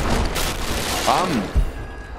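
A muffled explosion booms once midway through a Rise of the Tomb Raider gameplay scene in the Baba Yaga DLC, a short low burst under the game's steady ambient noise and voice-like sounds.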